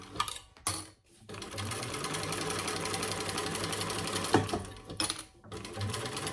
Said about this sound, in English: You're going to sew all 3 sides.